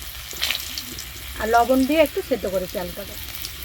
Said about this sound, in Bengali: কড়াটা চাপিয়ে আলুটা একটু ভালো করে ভেজে নিচ্ছি